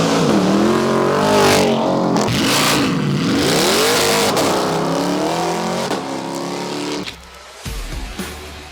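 A modified Corvette C8 engine revs hard and loud, rising and falling repeatedly with aggressive exhaust roar, then drops to a lower idle burble near the end.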